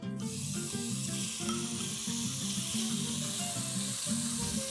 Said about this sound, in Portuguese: Então vou iniciar dourando as carnes, nós vamos colocar um fio de óleo.